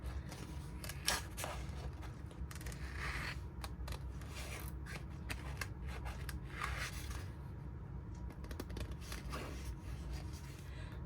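Scissors snip through a thrifted garment being cut apart, a run of crisp cuts with faint fabric rustle against a steady low background hum, no talking.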